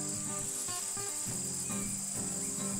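Hornets swarm around a person in a bee suit clearing brush, giving a steady high insect buzz throughout with a continuous whine and low droning passes that rise and fall as the insects fly close.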